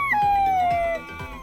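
A wolf howl played back at double speed, giving a raised, chipmunk-like pitch: one sustained glide that slowly falls, then cuts off after about a second, with no talking.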